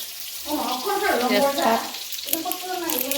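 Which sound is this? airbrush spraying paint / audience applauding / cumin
cumin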